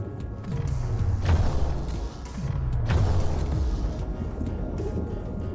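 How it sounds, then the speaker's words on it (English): A grenade launcher fires underwater in Dave the Diver, two heavy booming thumps about a second and a half apart, each with a descending mechanical rumble, loud and close with no talk. "The grenade launcher."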